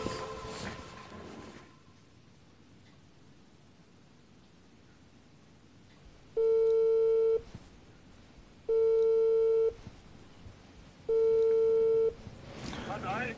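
Three long ringback tones from an outgoing phone call sound loud and evenly spaced, each lasting about a second, after a short stretch of voices and a quiet pause.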